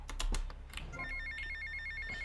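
A telephone rings in GTA Vice City Definitive Edition, a repeating electronic trill pulsing steadily after a few sharp clicks, fairly quiet and alone without talk.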